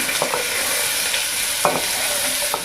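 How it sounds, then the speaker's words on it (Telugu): Chopped onions hit hot oil for mutton curry and sizzle loudly and continuously, close up, with a few brief scraping or stirring bursts over the steady frying hiss. "తర్వాత ఇందులోకి మనం కట్ చేసి పెట్టుకున్న ఉల్లిపాయలు వేస్తున్నాను"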